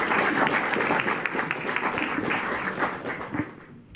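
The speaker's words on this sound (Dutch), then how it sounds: "Geef hem een warm applaus" Warm applause from an evening audience welcoming a speaker, a full even clapping that gradually tapers and thins out toward the end.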